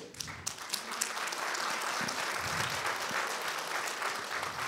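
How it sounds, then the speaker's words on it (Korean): Audience applause during a Korean talk show, a sustained spread of clapping that builds after a few sharp early claps and continues evenly throughout, without voices. "박수 칠 때를 정확히 아시잖아요"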